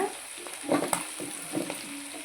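Chili powder being stirred into country chicken curry as it fries in a pan, a soft steady sizzle with a few scraping stirs, close and fairly quiet.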